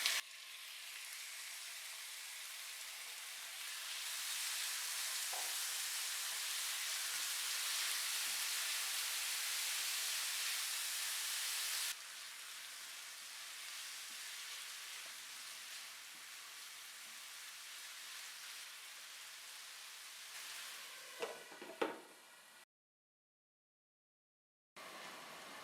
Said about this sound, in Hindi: अब इसमें मैरिनेट की हुई चिकन डालेंगे